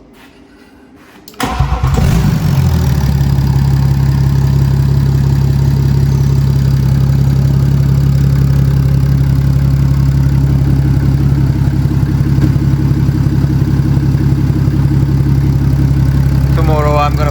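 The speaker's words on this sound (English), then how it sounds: "the engine started up. So let's hear how it sounds." A rebuilt BMW 640d with the N57 diesel engine cranks and fires after about a second and a half, then settles into a loud, steady idle with a deep, even drone that holds for the rest of the clip.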